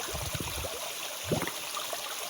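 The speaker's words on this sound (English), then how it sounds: "fill my water bottle" Clear stream water gurgles and trickles as a water bottle is gently filled from it during a backpacking trip, a steady soft outdoor flow with a brief louder burble midway.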